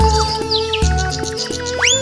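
Bright bird chirps and rising tweets ring out within a Hindi children's nursery rhyme, sitting over a bouncy, steady musical backing.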